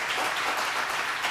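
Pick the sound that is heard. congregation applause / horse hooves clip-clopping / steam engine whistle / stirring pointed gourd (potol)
congregation applause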